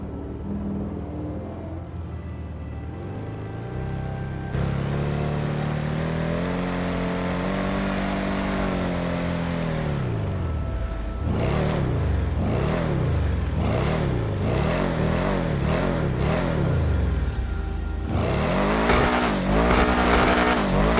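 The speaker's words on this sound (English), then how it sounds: "We're gonna go ahead and take it on the roads and give it a test drive." A Benefactor Schlagen GT, a Mercedes-AMG GT styled sports car in a video game, revs and accelerates on the road with repeated rising and falling engine sweeps, loud and close, with tire squeal and no talk.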